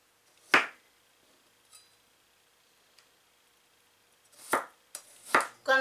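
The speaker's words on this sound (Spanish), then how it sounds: "Y también vamos a picar el ajo y la cebolla finamente" Kitchen knife chopping garlic and onion on a cutting board for stuffed zucchini rings: a sharp chop near the start, a few faint ticks, then a cluster of quick chops toward the end.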